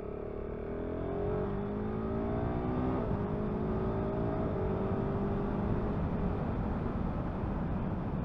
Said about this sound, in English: Okay, you get it revving and it goes well.